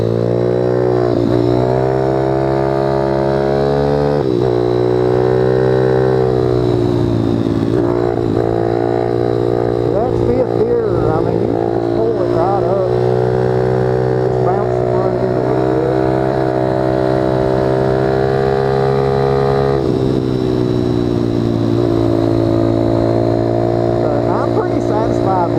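A dirt bike fitted with a swapped Ice Bear Champion 212 engine revs loud and close through the gears, its harmonic engine drone rising and falling with shifts, with a rider talking over it at times.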